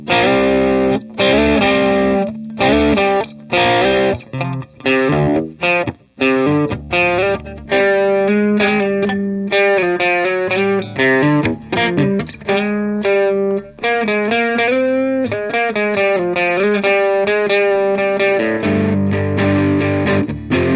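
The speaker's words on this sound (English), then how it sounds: "very good distortion tone" Electric guitar played through an Ibanez TS9 Tube Screamer overdrive pedal, loud and distorted, with strummed chords giving way to sustained single-note melodic lines, alone without talk.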